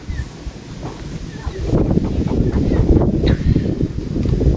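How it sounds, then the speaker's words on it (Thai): Strong wind roars and buffets steadily, a dense rushing noise that grows slightly louder toward the end. "ลมแรงมาแล้ว"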